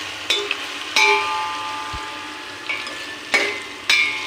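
Whole garam masala spices frying in hot oil in a wok, a soft background sizzle with about five crisp metallic clinks and scrapes of a spatula against the wok, one dull low thud midway.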